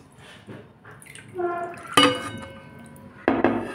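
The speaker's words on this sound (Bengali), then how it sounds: "সেই পাত্র ধুয়ে সামান্য একটু জল দিয়ে দেব" A little rinse water from the spice-mixing bowl is poured into a pan of coriander fish curry, with soft close splashes and a few sharp metallic clinks and rings of utensils against the pan.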